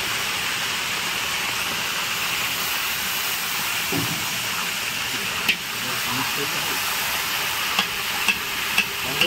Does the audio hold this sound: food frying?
yes